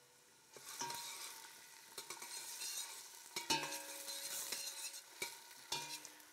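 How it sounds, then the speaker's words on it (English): Onion and garlic sweat in a pan with a gentle, steady sizzle, broken by several close clicks and scrapes of stirring; no one talks. "The first thing I'm gonna do, sweat some onion and garlic."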